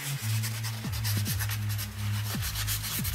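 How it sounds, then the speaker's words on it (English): A tissue rubbed over graphite on paper, smearing pencil shading for a cloud drawing: a steady, soft scuffing swish in repeated back-and-forth strokes, close and alone. "With your tissue, we're going to just rub."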